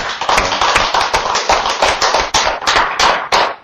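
A church congregation at a Wednesday Mark Bible study service claps in praise to God, a dense, continuous patter of many hands, loud and close, with uneven bursts running throughout.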